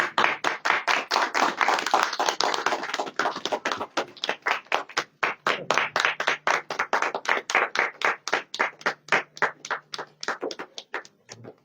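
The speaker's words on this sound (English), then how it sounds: "Guys, a big round of applause." An audience at an agreement-signing ceremony gives a round of applause, first a dense burst of scattered clapping, then a sustained rhythmic unison clap of steady, evenly spaced beats.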